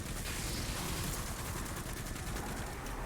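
Stasis hand cannon fire in the video game Destiny 2, heard as dense, continuous crackling gunfire and mechanical clatter amid a busy battle mix, steady and loud with no clear separate shots.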